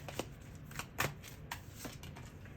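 Someone shuffles a tarot-style deck and draws cards, producing several soft riffling and flicking bursts at close range with no talking.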